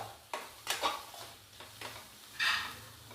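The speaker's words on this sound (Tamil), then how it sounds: "வெங்காயம் வதங்கினோடனே நம்ம துருவி வச்சுருக்க கேரட் ஆட் பண்ணிக்கலாம்" Onions sauté in a pan with grated carrot, a soft, quiet sizzle broken by a few scraping stirs and light clinks of a spoon against the pan.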